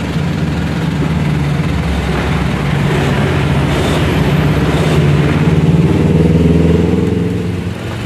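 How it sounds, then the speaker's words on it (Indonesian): A 2022 Honda Beat scooter engine runs steadily after starting, a loud continuous mid-low hum with a slight rise toward the end and no talk over it. "Jadi motor udah bisa dinyalakan."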